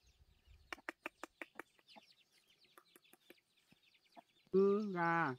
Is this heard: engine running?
no